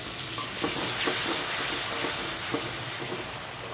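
Fried spice tempering for Gobindobhog rice khichuri hisses and steams in a hot pan as water is added, a dense, steady sizzle with faint rhythmic scraping underneath.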